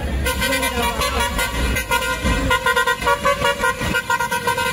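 A truck horn honks on a road in Maharashtra, a loud tonal blast in repeated bursts over engine rumble and traffic noise, heard close by.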